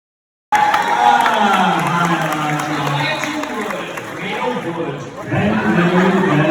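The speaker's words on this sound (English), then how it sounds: "the crowd got excited with a surprise cameo appearance" A packed ballroom crowd at a Lord of the Rings panel at Tampa Bay Comic Con 2023 erupts in loud excited cheering and shouting, a dense roar of many voices close by, with talk mixed in.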